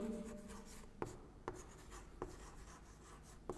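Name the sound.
writing the total work on the board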